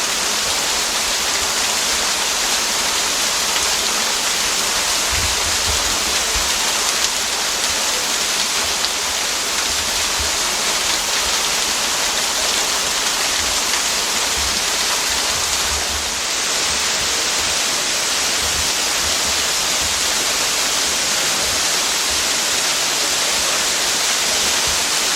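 Baskin Creek Falls, a secluded waterfall near Gatlinburg, roars as a steady, dense broadband rush of falling water, continuous and close for the whole stretch with no voices.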